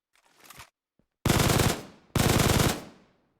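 MP7 submachine gun in a Minecraft gun mod, fitted with suppressor, optic and extended mag and chambered in .45 ACP. A short burst is followed by two long, loud sustained automatic bursts, each about a second, separated by brief pauses.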